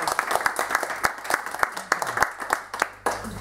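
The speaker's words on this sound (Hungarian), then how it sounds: "Akkor egy tapsot megérdemel!" Meeting audience applauds in a burst of overlapping hand claps with sharp individual strikes standing out, fairly close and moderately loud, with a faint low hum beneath.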